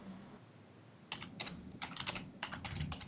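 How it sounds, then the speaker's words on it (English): Rapid keystrokes on a computer keyboard, heard faintly in the background of a podcast call: bursts of clicking that start after a quiet second and continue in irregular flurries to the end, with no talk over them. "I can hear the keyboard going"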